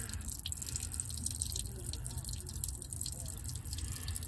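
Meltwater drains and drips out of a Koehring 205 excavator, along with some ice. It is a faint, steady trickle and splatter that continues for a few seconds.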